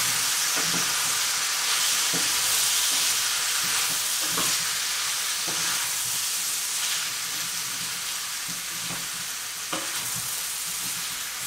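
Seasoned food fries in a pan with paprika, pepper, salt and herbes de Provence, giving a loud, steady sizzle throughout, broken by regular scraping knocks as a utensil stirs the mixture.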